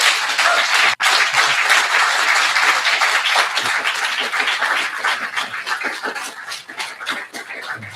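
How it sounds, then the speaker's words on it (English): A crowd applauding steadily at a Buddhist dharma teacher ordination service, dense clapping that fills the space and slowly thins toward the end. "I now ask that we give a round of applause for Mūshō for all they've done today."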